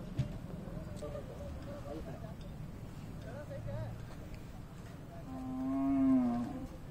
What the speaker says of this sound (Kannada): ನೋಡಿ, ಇವೆಲ್ಲ ಎತ್ತುಗಳು